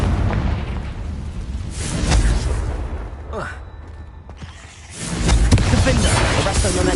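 Confringo fire spell exploding in Hogwarts Legacy: loud booming blasts at the start and again after a brief lull, with a rising whoosh in between and heavy rumbling low-end.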